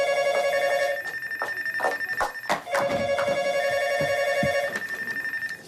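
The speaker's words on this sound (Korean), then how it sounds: "그때 걸려온 수상한 전화 한 통." A telephone rings in repeated electronic trills, loud and close, with a few soft knocks and thumps between rings.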